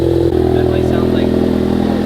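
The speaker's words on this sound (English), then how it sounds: "sounds like more rumbly. You're gonna hear it a lot more in the cab. You're gonna hear it turbo like crazy." A Ford Focus ST engine drones at a steady, loud rumbling note, with a faint turbo whistle rising above it over two seconds.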